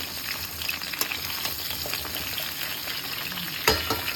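Vegetables fry in a pan with a steady close sizzle and occasional stirring scrapes and clicks, no voices.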